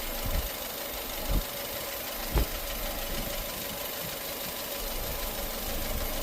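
A 2009 Nissan Tiida engine with a misfire on cylinder 3 idling roughly, a steady low drone broken by a couple of uneven thumps and stumbles, heard close with no talking.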